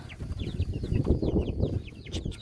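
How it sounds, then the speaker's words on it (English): Chickens clucking close by in a busy, overlapping chorus of short clucks and chirps, with some wing-flutter and shuffling, no talking. "There's the rest of the chickens."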